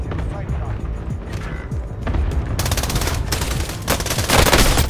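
Gunfire in the battle royale shooter Call of Duty: Warzone, with scattered shots and bursts under game noise, then a loud sustained burst of rapid automatic fire in the second half; a voice talks over part of it.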